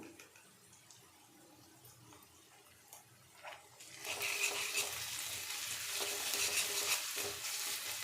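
Ginger garlic paste frying with onions for a chicken curry, starting as a faint crackle with light stirring, then swelling midway into a loud, dense sizzle that holds to the end, no voices.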